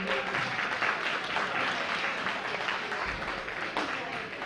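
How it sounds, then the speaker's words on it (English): Applause fills the hall at a fundraising gala, steady clapping from the audience throughout with voices mixed in beneath it. "let's give a round of applause again"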